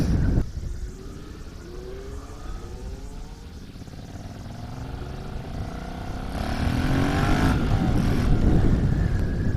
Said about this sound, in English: I love the sound of that bike.